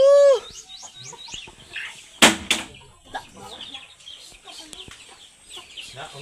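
A chicken clucks and calls in the open, short sharp cries at the start followed by scattered softer clucks and handling noises, with a brief burst of louder activity midway.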